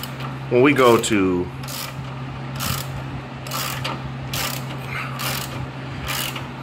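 A ratchet turns a filter drier fitting on a 2012 Honda Civic LX coupe, giving repeated close, crisp clicking strokes at a steady pace after a brief spoken remark.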